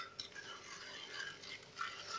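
A spoon stirring and mixing sauce in a bowl, a continuous soft scraping and swishing close by with faint clinks.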